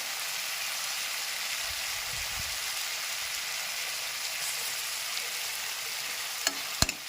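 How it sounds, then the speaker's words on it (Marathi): Grated garlic and fresh coconut sauté in a pan over low heat, a soft, steady crackling sizzle with faint stirring, ending with two sharp clinks of a utensil against the pan, no talk. "आपण व्यवस्थित हे सगळं परतून शिजवून घेणार आहोत बारीक गॅसवर।"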